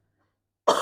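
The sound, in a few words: adult coughing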